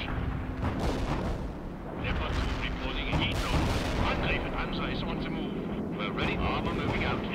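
Artillery and gunfire crash in a World in Conflict battle at a submarine pen, with booms and shots rolling continuously beneath radio-style unit voice chatter over engine and aircraft rumble.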